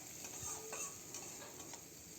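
Green chillies and onion fry in a pan for a flattened-rice breakfast dish. Steady soft sizzling runs throughout, and the spoon scrapes and stirs in a few short bursts. Nobody speaks.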